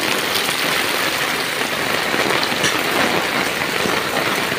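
Heavy rain pours down on a village in Cirebon, a dense, loud, unbroken hiss of water that fills the whole stretch with no pauses.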